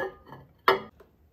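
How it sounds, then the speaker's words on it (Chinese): A dish topped with corn, peas, peppers and shredded cheese is set into a microwave oven, giving a sharp clink of the dish against the oven followed by a faint lighter tap, near and otherwise quiet. "然后我们给它放入微波炉中，"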